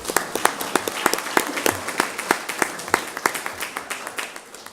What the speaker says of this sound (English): And you guys can clap